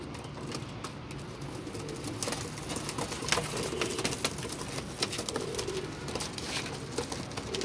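Pigeons in a home loft coo softly and repeatedly, low throaty calls layered over a steady background hum with occasional faint rustles.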